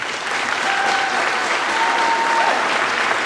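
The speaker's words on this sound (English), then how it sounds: "Another round of applause for these seniors" A crowd in a gym applauds wrestling seniors on senior night with dense, steady clapping throughout, loud and sustained with no break.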